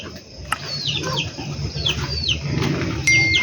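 Pet birds stirring in a cage at evening feeding time, with several sharp chirps and calls over a low background hum.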